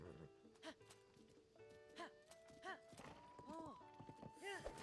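Horse hooves clip-clopping in The Legend of Zelda: Tears of the Kingdom, a giant horse moving at a steady walking rhythm with game music tones behind and someone talking over parts of it.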